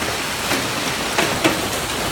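Golf-ball-sized hail pouring down in Islamabad, a dense steady roar of stones striking surfaces, with a few sharper impacts standing out above the constant wash.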